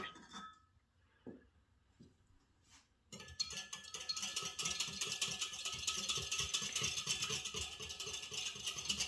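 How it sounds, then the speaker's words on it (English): A whisk mixes dry pizza dough ingredients in a bowl, starting with a few scattered clinks and then settling into a dense, rapid, continuous clatter. "And whisk that together."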